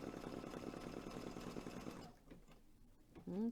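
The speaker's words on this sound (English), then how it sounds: "I am using the Baby Lock Altair today. That is a sewing machine and embroidery machine combination." A Baby Lock Altair sewing and embroidery machine runs steadily in a rapid mechanical whir for about two seconds, then stops, leaving quiet room sound and a short voice at the end.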